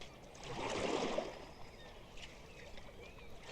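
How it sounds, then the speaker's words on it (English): Oars dip and push water while a boat rows down a river, a soft swell of swishing strokes followed by quieter lapping and faint trickles, distant and gentle. "as she listened to the sound of the oars"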